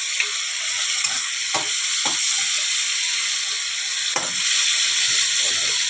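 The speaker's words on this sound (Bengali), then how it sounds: "মাছগুলোকে ভেজে নেব।" Fish frying in hot oil gives a loud, constant hissing sizzle close by, with a few soft clicks and stirring knocks scattered through it.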